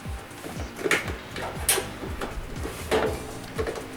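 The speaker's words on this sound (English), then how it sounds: "This box slides back slightly before you lift it." A washing machine's soap drawer box slides back with repeated scraping, clunking knocks, close and fairly loud, with a few sharper clicks along the way.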